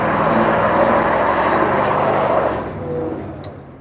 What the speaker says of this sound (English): Got guys doing burnouts in the parking lot up here.